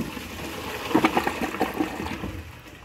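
A Glacier Bay high-efficiency toilet flushes during a performance test, a short burst of rushing, gurgling water close by that swells around the middle and trails off into a quiet trickle.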